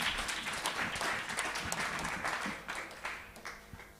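Sunday service church congregation breaking into applause, a full, continuous patter of many hands clapping that gradually tapers off over a few seconds.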